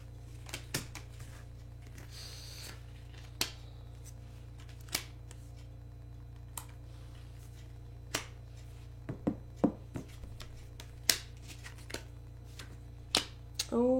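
Playing cards are turned over one at a time by hand, soft sharp flicks and slaps scattered irregularly over a low steady hum, close and fairly quiet.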